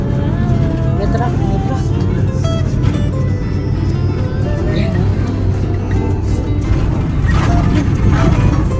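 Road traffic noise with a truck passing close by, steady low rumble and engine drone throughout, rising slightly toward the end, with a smoky vehicle nearby and occasional voices in the background.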